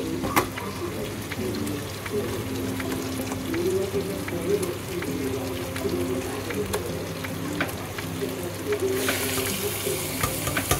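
Beef pieces sizzling and frying in a pan with tomato puree for a Mejbani beef dish, a steady close crackle with faint watery hiss running throughout and no talk.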